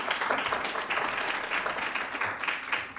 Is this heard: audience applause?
yes